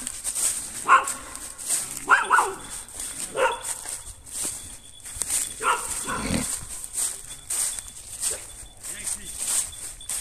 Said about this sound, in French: Tiens, il y a un chien.